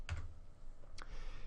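A couple of sharp computer keyboard key presses for a shortcut, close and crisp, with quiet room noise between them and no speech.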